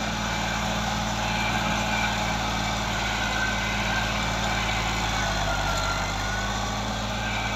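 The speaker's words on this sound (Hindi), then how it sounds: "देख लो जी ट्रैक्टर कोई धुआं शुआं नहीं मारता" A 1972 Fiat 480 tractor engine runs steadily on dry, hard ground, a loud continuous low diesel drone with a constant hum and no pauses, heard alone.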